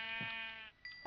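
A sheep in Minecraft gives a short, bright bleat, a single synthetic baa that rings out alone and close, followed by a couple of faint game clicks.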